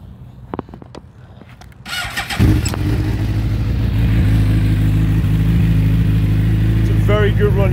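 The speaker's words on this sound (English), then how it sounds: "Start her up." A 2006 Suzuki GSX-R 750 sport bike cranks and catches, then settles into a loud, steady close-up idle, with a few faint clicks before the start and brief speech-like sounds near the end.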